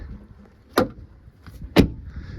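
Rear doors on a Maxi van swing shut one after the other, two sharp, loud thuds about a second apart over a quiet background.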